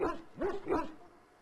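A Mabari war hound from Dragon Age: Origins gives three loud, close barks in a quick, evenly spaced run, then goes quiet.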